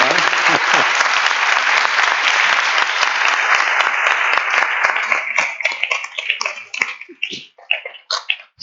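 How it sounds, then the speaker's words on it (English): An audience at an Arctic-themed talk in Sweden claps warmly, dense at first, then thinning into scattered individual claps before fading. "So a warm applaud really to you."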